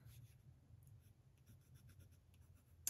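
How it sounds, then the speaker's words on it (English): Fountain pen loaded with glittery ink writing on a paper thank-you envelope, a faint, close, soft scratching in short strokes without talk, ending on a small tap. "I'm just going to write on this thank you envelope"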